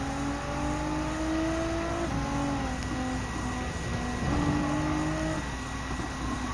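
A 2018 Nissan GT-R Nismo GT3 race car in Gran Turismo 7 drones loudly and continuously, its engine note sliding up and down through gear changes as it brakes and powers through corners.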